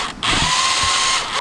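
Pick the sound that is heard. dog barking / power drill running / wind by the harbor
power drill running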